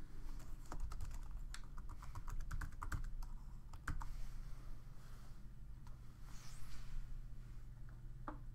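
Keys clatter on a computer keyboard as a password is typed, a close burst of quick, uneven taps over a low steady hum, then a few scattered keystrokes before falling quiet.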